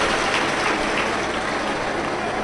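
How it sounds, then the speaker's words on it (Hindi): A large audience at a Shiv Mahapuran katha gives loud, dense, sustained applause, a steady wash of clapping that fills the whole moment without pause. "एक बार जोरदार ताली बजाकर उनका स्वागत"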